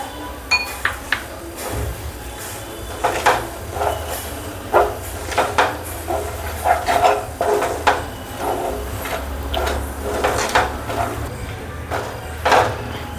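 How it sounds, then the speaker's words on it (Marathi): A spoon scraping and clinking against a pan while mawa modak mixture is stirred with sugar, giving irregular metallic taps and knocks over a low background hum. "आज 2 मिनिटं आता चांगलं मिक्स करून घेऊ।"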